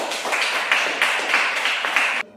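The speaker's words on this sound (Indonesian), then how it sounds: "Berikan tepuk tangan untuk kelompok 1" A classroom of eighth-grade students claps for the first group, a dense, steady patter of hands lasting about two seconds with a few louder swells before stopping abruptly.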